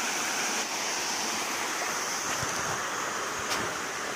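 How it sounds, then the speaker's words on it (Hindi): Pacheri waterfall pouring in a steady, full roar of rushing water, constant and fairly close, with a faint brush of wind and no voices. "पचरी वाटरफॉल देखिए फ्रेंड लोकन"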